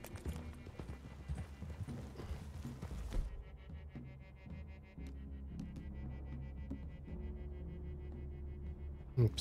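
Steady clip-clop of horse hooves at a walking pace in Red Dead Redemption 2, with a low rumble and scattered game sounds, moderately quiet throughout.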